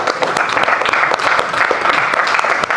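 Dense, steady applause from an audience at a training session, honoring Dr. Rajat, with sharp claps crowding together throughout and no break.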